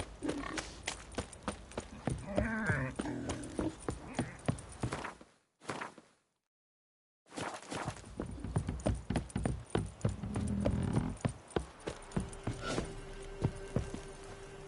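Horse hooves clip-clop at a walking pace in The Witcher 3, a steady rhythmic run of close, fairly loud steps that drops out briefly into silence midway before resuming.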